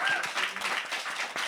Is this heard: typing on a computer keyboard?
no